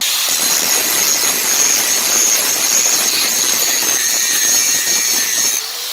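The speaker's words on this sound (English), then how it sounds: "I've been grinding to get it back to the level of the original anvil" An angle grinder grinds down the face of an old anvil to level it, a loud, steady, high-pitched whine of the disc on steel that runs throughout and drops off at the very end.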